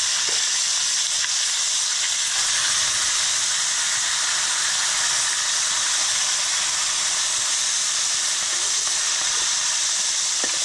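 Fish fries in hot oil, a constant loud hiss and sizzle that holds steady without pause from start to finish.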